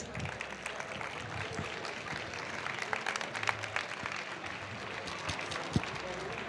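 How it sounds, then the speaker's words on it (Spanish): A large audience at the Campus Summit 2023 event applauds loudly and continuously, a dense wash of clapping with some cheering and crowd voices mixed in. "Un aplauso bien fuerte para Sofi Contreras."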